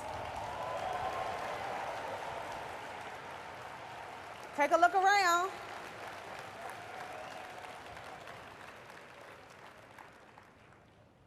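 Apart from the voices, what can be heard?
audience applause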